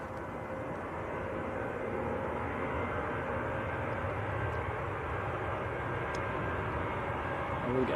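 A heavy jet departs runway 23 left at Manchester Airport, its engines a steady, broad roar sustained throughout, moderately distant and fairly even in level.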